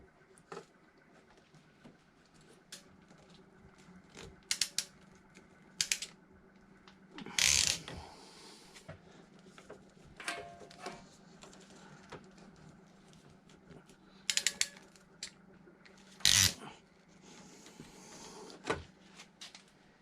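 PEX crimp clamp being fastened onto a fitting during a copper-to-PEX house plumbing job: scattered mechanical clicks and ratcheting snaps, with a few louder crunching clamps standing out against a low background hum.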